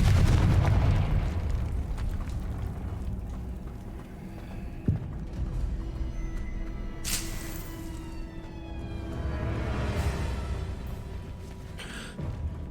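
Confringo fire spells are cast in the video game Hogwarts Legacy: a sharp blast near the middle, then bright crackling bursts later, all over a steady bed of game ambience and music.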